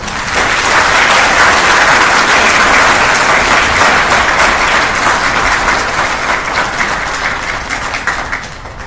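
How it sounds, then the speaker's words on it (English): At a military field artillery battalion ceremony, the audience gives the instructors of the cycle a loud, sustained round of applause that holds steady for nearly nine seconds before easing slightly. "Please join me in a well-deserved round of applause for our instructors of the cycle."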